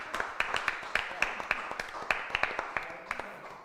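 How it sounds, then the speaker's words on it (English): A small group claps at a county board of supervisors meeting, a modest round of scattered hand claps in an indoor room, fairly faint and steady for a few seconds. "I think you needed a round of applause."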